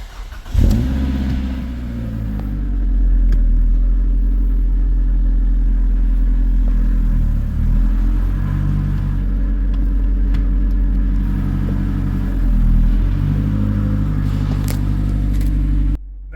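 A car engine cranks and catches, then settles into a steady, loud idle that runs for over a quarter minute with a few slight revs and dips before cutting off at the end.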